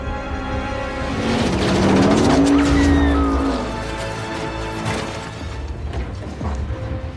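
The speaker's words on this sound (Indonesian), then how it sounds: "cara yang digunakan oleh Dominic untuk melarikan diri, yaitu dengan menerjunkan mobilnya ke bawah tebing." In an action film, a car is driven off a cliff. Heavy, rumbling mechanical noise swells in the middle and is followed by scraping and thudding impacts, with a loud, dense cinematic mix throughout.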